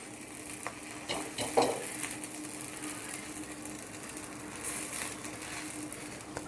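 Pav bread rolls toast in a pan, both sides coated in chutney, giving a faint, steady sizzle with a few soft scrapes and clinks close by and no talk.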